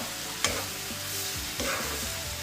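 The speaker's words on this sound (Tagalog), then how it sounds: "We're going to stir it." Bitter gourd, or ampalaya, stir-fried with corned beef is turned in a hot pan, a steady soft sizzle broken by two brief scraping stirs.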